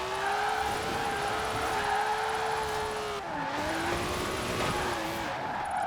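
An engine drones steadily with shifting pitch as a car slides and drifts through corners in Forza Horizon 4, the tone dipping and rising once mid-slide, fairly loud and alone.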